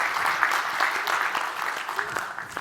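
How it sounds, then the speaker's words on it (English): Conference audience applauding a speaker from American Axle, a steady wash of clapping hands lasting a few seconds at moderate level, with a voice faintly audible beneath it. "Yes, round of applause for Ryan."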